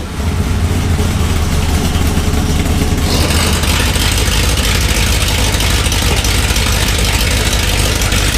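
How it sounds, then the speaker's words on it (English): A 1977 Dodge Aspen with open headers fires up and settles into a loud, rough, rumbling idle, close and continuous with no talk. "That's that open header sound we got going on there."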